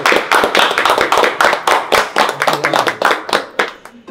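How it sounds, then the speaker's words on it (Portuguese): Close, loud hand clapping from a small group at a bikini fitness event, sharp rhythmic claps in quick succession that trail off at the end. "Então uma salva de palmas aí pra nossa."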